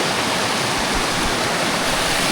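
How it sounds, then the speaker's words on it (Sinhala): Mountain stream water rushing along a trail on the hike from Horton Plains to Ohiya, Sri Lanka, a steady, dense, close roar of flowing water with no voices. "අපි මේ දිය පාර දිගේ ආවා"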